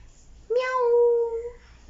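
A human voice imitates a cat's meow in one drawn-out call that is sudden and clear, rising then holding steady before fading, close and alone.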